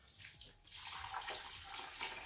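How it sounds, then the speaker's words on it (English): Water is poured into a pot of Nigerian ugu vegetable soup with onions, a soft steady splashing stream lasting a couple of seconds, fairly quiet and heard alone. "So at this point, add some water."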